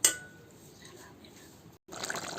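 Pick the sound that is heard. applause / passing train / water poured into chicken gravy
water poured into chicken gravy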